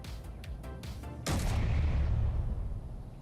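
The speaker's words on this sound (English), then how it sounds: "You can't see the explosion." An explosion in the video game Space Engineers, a sudden heavy boom after a few sharp clicks, followed by a deep rumbling roar that fades slowly.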